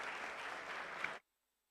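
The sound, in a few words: audience applause for panelists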